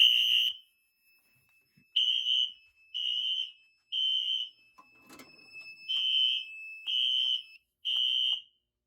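A Wheelock fire alarm on a Fire-Lite MS-4 system sounds a series of loud, evenly spaced high-pitched beeps, with a brief pause and a dull bump in the middle.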